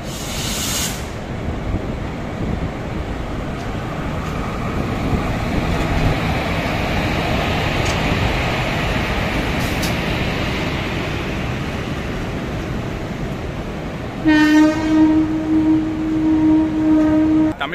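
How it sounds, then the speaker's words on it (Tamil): A Palakkad Express train departing rumbles and rushes past with a broad steady roar, building slightly, then a loud horn sounds near the end. "பாலக்காடு எக்ஸ்பிரஸ் டிபார்ட் ஆகும் போது."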